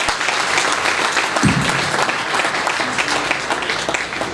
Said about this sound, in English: Another round of applause for Amir Zahar.